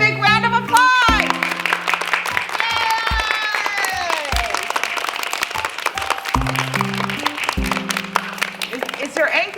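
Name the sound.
applause for first graders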